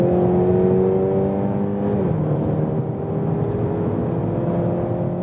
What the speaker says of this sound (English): We go once more to the sports mode.